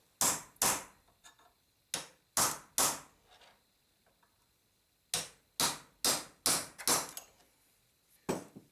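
Hammer striking a cold chisel against a trailing arm bushing, sharp metallic blows in quick bursts of two to five separated by short pauses, close and loud with quiet gaps between.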